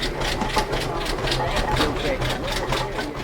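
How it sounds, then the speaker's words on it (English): A Fowler tractor engine runs steadily nearby while being steered down a yard, with a rhythmic beat over a low mechanical rumble. "skillfully steers the Fowler tractor back down the yard"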